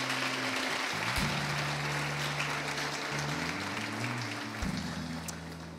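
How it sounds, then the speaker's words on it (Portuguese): A church congregation claps praise to the Lord during a service in a big, reverberant room, making a steady wash of applause over a sustained, shifting organ or keyboard tone. "Louve ao Senhor com as suas palmas, em nome de Jesus."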